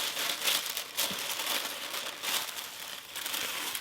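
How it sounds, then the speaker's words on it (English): Louis Vuitton damier tissue paper crinkles and rustles steadily during an unboxing, a continuous close, soft crackling with small louder bursts throughout. "I just got the regular damier tissue paper."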